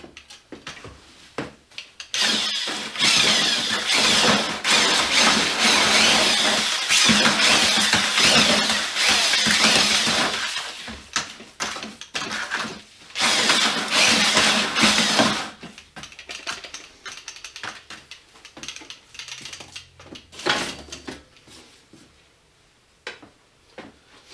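A concrete mixer spins a batch of wet concrete mix, giving a steady, loud rumbling churn with scraping and rubbing that runs for about fifteen seconds, then cuts back to quieter, intermittent knocks as the drum slows.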